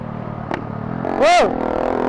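Motorcycle engine revving sharply once with a rising and falling pitch, near and loud, between steadier idling and background voices on an outing with several bikes.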